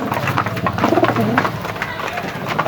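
A grizzle racing pigeon coos in soft low throaty notes nearby, mixed with other bird calls and faint indistinct voices in the background.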